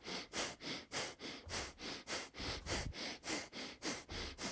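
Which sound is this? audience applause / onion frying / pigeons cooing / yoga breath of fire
yoga breath of fire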